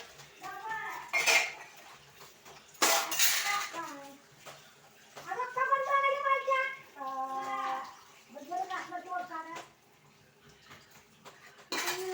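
Tea dishes and utensils being washed, with loud clattering of metal pots and cutlery and splashing water in bursts. A voice hums or talks between the clanks.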